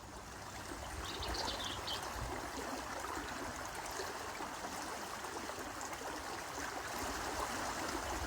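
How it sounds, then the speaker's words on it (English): The River Kent in the Lake District rushes steadily past, a continuous broadband wash of flowing water with no breaks, fairly loud and close, with no voices over it. "This is the River Kent, which is one of the main rivers in the Lake District."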